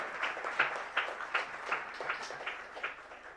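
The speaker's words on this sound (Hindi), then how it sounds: "आपकी तालियां चाहूंगा इस समय पर" An audience at a Jain religious assembly claps to welcome a company chairman and managing director: moderate applause with a loose, pulsing rhythm of regular accents, heard without speech.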